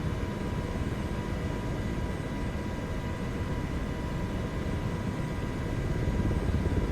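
A helicopter in Microsoft Flight Simulator 2024 flying over Yellowstone drones with a steady, broadband rotor and engine roar, constant and close, with no voices.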